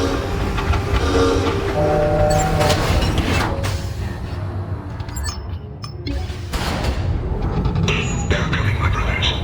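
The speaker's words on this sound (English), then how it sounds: "yeah, I can use the tram to get to the station." Tram ride in the sci-fi horror game Dead Space 3, a loud rolling rail rumble with metallic clatter and horn-like tones throughout, with voices talking over it.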